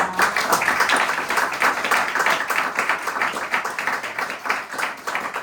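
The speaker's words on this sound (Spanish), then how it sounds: "que un fuerte aplauso para" An audience claps steadily for a speaker at a talk, a dense and fairly loud burst of applause that keeps going for about five seconds with no voices over it.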